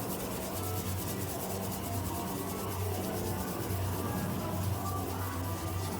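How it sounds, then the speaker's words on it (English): Wax rubbed by hand onto a KISS pinball machine makes a continuous close, even scrubbing and rubbing sound with a faint rhythmic pulse and no talking over it. "if you just kind of rub it, you can kind of almost see it start to clean it off"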